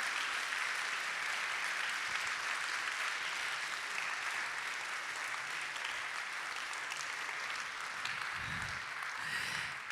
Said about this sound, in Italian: Un applauso anche ai goliardi che sono sempre molto disponibili.